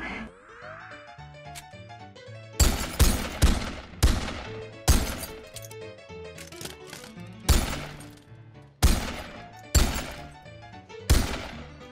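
Gunshots in the VR party game RADtv, about ten sharp cracks in an uneven rhythm, some in quick pairs, each ringing out over a steady musical background with no talk.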